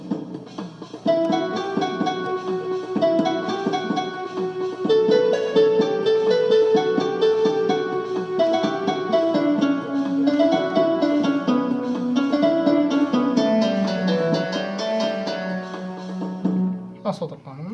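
A qanun voice played on an LP6110E oriental keyboard: a sustained, flowing melody of bright plucked notes in an Arabic style, winding up and down steadily for the whole stretch with no talking over it.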